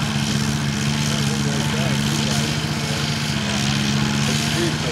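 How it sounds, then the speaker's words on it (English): A diesel tractor engine labours at a plow day with a steady, continuous drone and a strong low hum held throughout, while people talk over it. "Making the diesel work a little bit."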